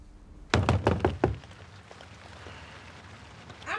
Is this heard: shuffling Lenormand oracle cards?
no